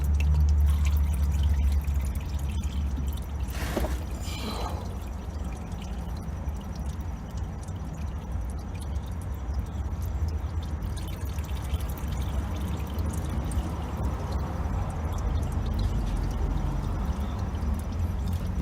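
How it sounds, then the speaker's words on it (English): Old engine oil pours from the drain hole into a drain pan during an oil change: a steady, continuous splashing stream, close and even throughout, with a brief rattle near the start. "Then let that drop into your oil drain pan."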